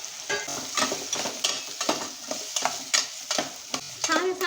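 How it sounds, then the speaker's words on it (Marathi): A spoon stirs ridge gourd frying in hot oil with cumin and asafoetida, giving repeated close scraping strokes over a steady sizzle, with no voices. "आपण ढवळून घ्यायचं आहे"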